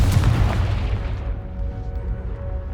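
A Confringo blasting spell bursts in the Hogwarts Legacy video game, a heavy booming explosion that hits loudly at once and then rumbles away into a fading, noisy tail.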